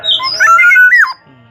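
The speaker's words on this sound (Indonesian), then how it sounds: "Burung ajaib ini." A black-naped oriole gives a loud, close, sliding whistled call lasting about a second, followed by a brief faint low note.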